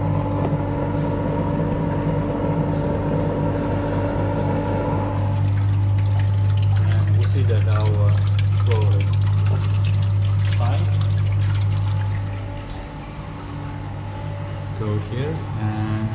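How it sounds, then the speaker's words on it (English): Water rushes steadily through a fluid friction apparatus, the flow swelling louder and lower as the valve is turned open, then easing back; a voice speaks over the flowing water partway through. "increase the flow rate just for a little bit by rotating the valve"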